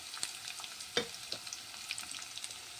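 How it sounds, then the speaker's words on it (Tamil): Garlic fries in hot oil, giving a soft, steady crackle and sizzle with occasional sharper pops and a brief louder stir partway through, fairly faint and with no voices. "பூண்டு நல்லா பொரியட்டும்"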